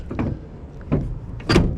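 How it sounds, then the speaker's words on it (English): A bus door is pulled shut, with several clunks and rattles of metal hardware and a final louder thud as it closes, all heard up close. "Close the door."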